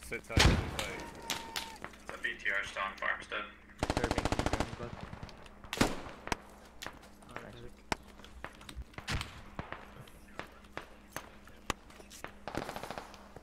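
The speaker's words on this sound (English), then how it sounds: "we're getting hit by artillery" Artillery and gunfire in the military shooter Squad: a loud burst of heavy blasts near the start and another dense volley around four seconds, followed by scattered sharp impacts and shots over a low background hum.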